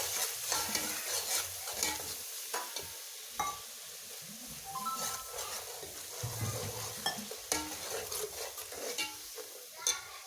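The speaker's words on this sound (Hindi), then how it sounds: "अब आपने इसको भूनना अच्छे से कि इसका ऑयल जो है वो अलग हो जाए इससे" Potato and spinach curry stirred and sautéed in oil, with repeated scraping spoon strokes and clinks against the pan over a continuous sizzle, no voice.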